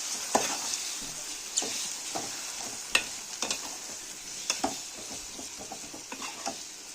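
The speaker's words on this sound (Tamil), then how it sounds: "இது சிக்கன் லிவருக்கு வெங்காயம் நல்லா ஃப்ரை ஆகுந்தோம்." Onions spiced with chilli, turmeric, coriander and pepper powder fry in oil for chicken liver, giving a soft constant sizzle broken by irregular sharp clicks and scrapes of a spatula stirring the pan.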